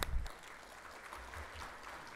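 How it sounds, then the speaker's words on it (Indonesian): Applause from an audience at a national congress of campus mosque associations in Indonesia, a short, fairly soft burst of clapping heard from a distance in a large hall. "Tepuk tangan untuk beliau ya."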